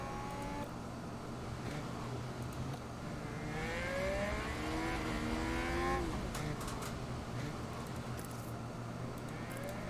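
F1 cars in F1 Manager 2022 racing and overtaking, engines droning steadily with a rising, sweeping whine as a car passes, heard at a moderate distance under a constant mix.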